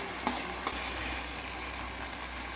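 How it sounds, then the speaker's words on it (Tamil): Spicy chicken fry (chicken perattu) sautés in oil in a pan, giving a steady close sizzle throughout, broken by a couple of faint clinks from stirring, with no voices. "கொஞ்ச நேரம் எண்ணெயிலே வதங்கட்டும்."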